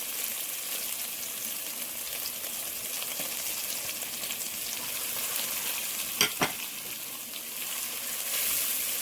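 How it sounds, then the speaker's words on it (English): Channa with curry powder frying in a pot, a steady loud sizzle with stirring scrapes and a couple of sharp utensil knocks midway, no talking. "You want to cook the curry for probably 60 seconds or so."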